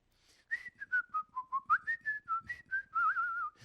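A person whistles a short tune, a clear run of about a dozen separate notes with a final longer warbling note, close and alone with no talking.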